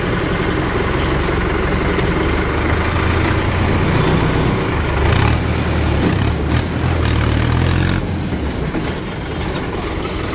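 A tractor's diesel engine runs loud and close with the throttle opened up, a steady heavy rumble and rattle that holds without a break throughout.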